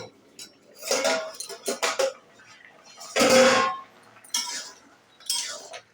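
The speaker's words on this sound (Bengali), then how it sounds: "আমি ঢাকনাটা খুলে দেখছি আলু ফুলকপি কতটা সিদ্ধ হতে বাকি আছে" A pot lid is lifted and handled on a pot of cooking potato and cauliflower curry, giving several close metallic clanks and clinks in bursts, with one louder rattle in the middle.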